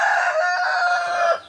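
A backyard native chicken gives one drawn-out, tonal, crow-like call close by, lasting over a second before cutting off.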